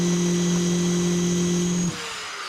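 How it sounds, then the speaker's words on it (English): Power drill boring a new hole through a car exhaust pipe for an oxygen sensor bung on a C34 Stagea, a steady loud whine that stops abruptly near the end, leaving quieter background noise. "While it's off, we're going to drill a new hole and pop the new new bung in there."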